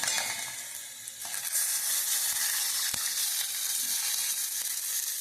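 A tempering of spices sizzles in hot oil in a pan for tamarind rasam and chicken curry, a steady bright hiss with a few faint clicks, moderately quiet and with no voices.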